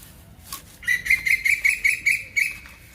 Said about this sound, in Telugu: పక్షులు కేరింతలు కొడుతున్నాయండి మా గార్డెన్లో